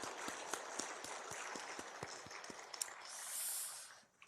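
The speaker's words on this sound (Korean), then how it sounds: "우리 부모된 여러분들을 위해서 우리 함께 격려의 박수 한번 하시죠" Church congregation applauding during a Sunday worship service, a modest group clapping with distinct individual claps audible in a quiet hall, faint and tapering off after about four seconds, with a brief hiss near the end.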